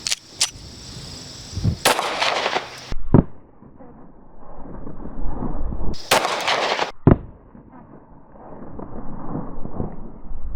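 .45 ACP pistol firing 230-grain rounds into body armor at an outdoor test: two loud, sharp shots several seconds apart, each followed by a long booming echo that rolls away and fades.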